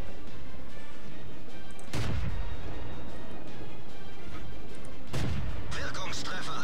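Tank cannon shots in World of Tanks, two sharp booming blasts a few seconds apart over continuous game rumble and background noise, the second followed by brighter crackling debris.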